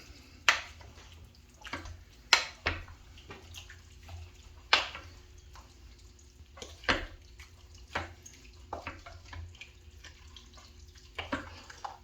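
Chili with beef stock and coffee being stirred in a crock pot, wet sloshing and scattered spoon clinks against the pot in irregular strokes, close and moderately loud.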